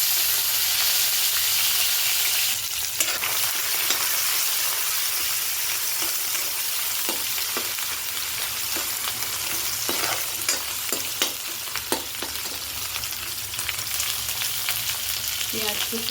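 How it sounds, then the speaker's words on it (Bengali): Dried loitta fish sizzling hard in hot mustard oil, a dense continuous hiss broken by the knocks and scrapes of stirring throughout. "এখন এখানে শুটকিগুলো ভালো করে ভেজে নেওয়া হবে।"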